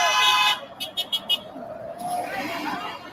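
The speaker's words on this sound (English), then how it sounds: "There is support, people honking." Passing cars on a parkway in Gresham outside a sheriff's office honk their horns, with a burst of short toots in quick succession followed by a longer horn, all over steady traffic noise and a crowd outdoors.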